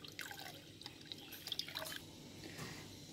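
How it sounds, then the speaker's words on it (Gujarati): About half a glass of water goes into a pot of dal khichdi, giving soft, irregular splashes and drips, close and quiet, with no talking. "પછી એની અંદર 1/2 ગ્લાસ જેટલું પાણી એડ કરશું"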